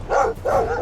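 Dogs barking in the video game Stoneshard, two quick loud barks close up with a brief gap between them, heard alone without talk.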